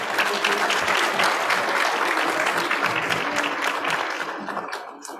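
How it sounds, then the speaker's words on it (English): Members at a hybrid meeting clap for the Blue Badgers, a loud, dense round of applause that holds steady, then thins and tapers off toward the end. "Round of applause for the Blue Badgers,"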